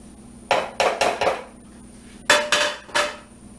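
A spoon knocks sharply against the side of a pot while a sticky rice crispy bar mixture sweetened with maple syrup is stirred, first in a quick run of four clanks and then in three more after a pause.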